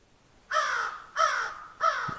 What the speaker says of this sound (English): those are crows